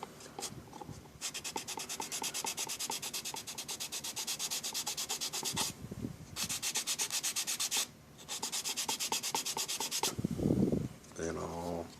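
Sandpaper rubs back and forth over a model car body during paint prep, working along a body line in steady rapid strokes, close and continuous, with two brief pauses and some handling noise near the end.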